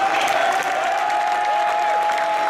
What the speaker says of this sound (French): C'est un tonnerre d'applaudissements pour Millionaire.